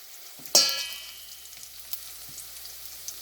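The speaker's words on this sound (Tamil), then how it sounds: "சின்ன சின்ன வட்டி இஞ்சி போடுறேன் இது கொஞ்சம் வதங்கி ஒரு வாசம் வர வரட்டும்" Small pieces of chopped ginger drop into a hot pan with a sharp hiss that fades to a soft, low sizzle, with a few faint clinks and taps scattered after.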